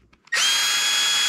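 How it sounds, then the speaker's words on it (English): A cordless power drill starts abruptly and whines loudly and steadily, driving Allen bolts into the stand of a Mongoose Argus Sport fat bike, after a few faint clicks. "obviously I'm going to use my power tool because it's a lot quicker than doing it by hand."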